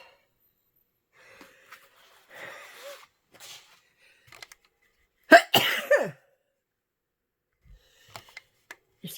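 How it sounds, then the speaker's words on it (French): A single sharp sneeze bursts out close by, loud against an otherwise quiet room, with a few faint rustles before and after. "je voulais pas vous éternuer aux oreilles."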